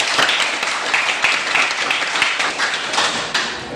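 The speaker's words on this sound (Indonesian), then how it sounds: "Jadi tepuk tangan dulu untuk kalian" A classroom of students claps together, a dense, steady patter of many hands filling the room at close range, with scattered sharper slaps throughout.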